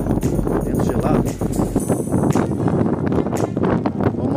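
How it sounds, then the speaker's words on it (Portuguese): Strong, cold gusty wind on a beach buffets the microphone in a loud, continuous roar with rushing surges throughout. "vento gelado."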